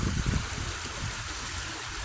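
Coldwater Creek water flowing, a continuous hiss and gurgle of the stream, slightly louder and choppier at the start before settling into an even rush, no one speaking.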